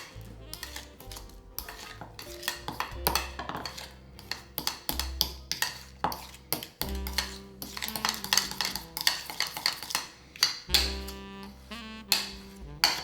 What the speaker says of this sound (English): we're just gonna take a fork and we're just gonna mash it all together